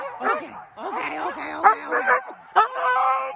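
Sled dogs bark, yip and whine in an excited chorus before a run, with overlapping close cries and a few sharp louder barks.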